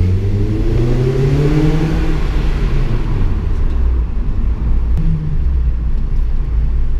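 A loud V8 Jeep engine revving at night, a steady low rumble with rising and falling rev sweeps, mixed with passing-car engine noise, close and continuous throughout.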